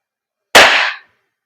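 An airsoft gun fires a single sharp, loud shot during an FPS test, a close crack with a brief decaying tail and silence around it.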